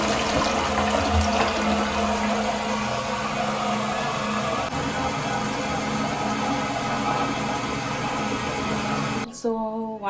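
Water rushes steadily and loudly into a laundry machine as it fills, a close continuous flow that cuts off sharply near the end.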